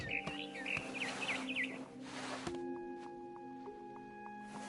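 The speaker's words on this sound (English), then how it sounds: "Then I heard chirping outside my window. It was a barn swallow going back to her nest." Short high barn swallow chirps trill near the start in the video game What Remains of Edith Finch, followed by quieter tonal game-like sounds and soft repeating beeps.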